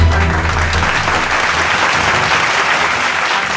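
A studio audience at a stage game show claps loudly and continuously, a dense, even burst of applause welcoming the first guest.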